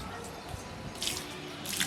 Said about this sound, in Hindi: ऐसे डाल ना पानी।